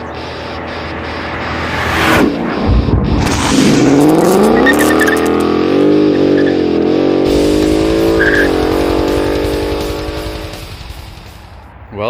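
A 2019 Mustang GT Performance Pack 1 V8 accelerating hard from a standstill to 60 mph, heard from inside the car: a loud rising engine roar that climbs through the gears in sweeping surges with brief shift dips, then eases off at the end.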